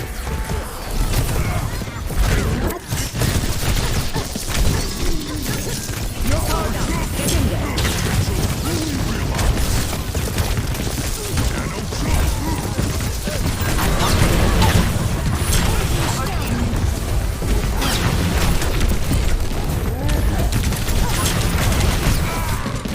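Bombs going off in a bullet-heavy video game, a dense and continuous barrage of booms, crashes and bursts stacked on top of one another at steady loudness for the whole stretch, with game effects filling every moment.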